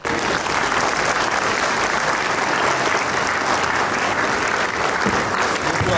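Steady, dense applause from a ceremony audience in Mytishchi, Russia, as distinction badges are handed out, filling the hall evenly and loudly without pause for several seconds.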